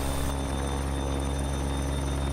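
An AB412 helicopter in the X-Plane flight simulator drones steadily with a constant rotor and turbine hum, loud and unbroken throughout.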